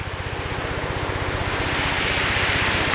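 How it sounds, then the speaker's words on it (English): Pacific Ocean surf rolls onto the Kaikoura coast in New Zealand, a loud, continuous roar of breaking waves with a steady low pulsing, heard alone. "I hope you can hear me on this video because the waves are quite loud"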